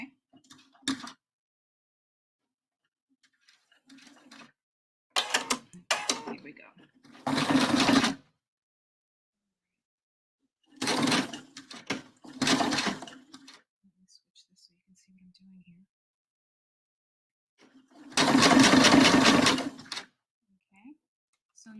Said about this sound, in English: So it's just a nice little top stitch to hold it in place.